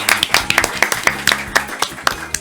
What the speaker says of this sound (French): Allez, applaudissements pour eux.